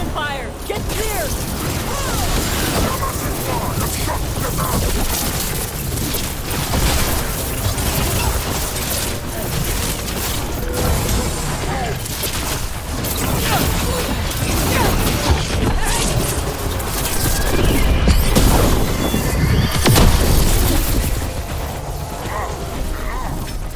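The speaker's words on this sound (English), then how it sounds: "Cannon fire! Get clear!" Cannons fire in Dragon Age: The Veilguard amid a chaotic battle, heavy thuds, crashes and mechanical clatter in a dense, loud din, with voices shouting beneath.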